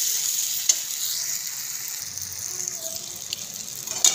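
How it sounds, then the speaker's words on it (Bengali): Spatula stirring fried eggs through a potato and egg curry in a pan, a steady hiss of sizzling oil with faint scraping and occasional soft clinks, close and continuous. "ভেজে রাখা ডিম দিয়ে একটু ভালো করে নাড়িয়ে চাড়িয়ে নেব।"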